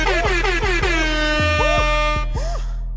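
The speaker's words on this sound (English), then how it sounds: "Let's get an air horn to that." Loud blaring air horn sound effect, a series of rapid repeated honks with warbling pitch sweeps over a constant droning tone, lasting about three seconds on its own.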